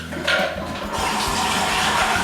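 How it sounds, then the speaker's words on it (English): Tap water runs steadily and close by as a Bosch Tassimo water tank is rinsed under the tap, with a brief splashing surge near the start and a constant gushing rush after. "So I'm going to wash that under the tap 3 or 4 times there, all of that inside of that tank."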